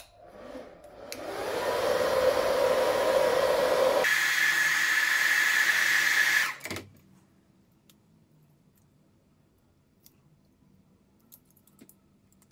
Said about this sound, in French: Personnellement je vais le faire au sèche-cheveux